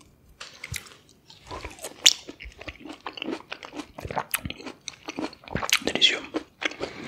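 Someone bites into and chews a fresh orange up close, with crisp bites followed by wet, squishing mastication that continues steadily over several seconds in a quiet room.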